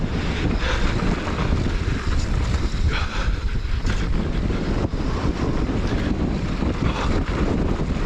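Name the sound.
wind blowing across a cliff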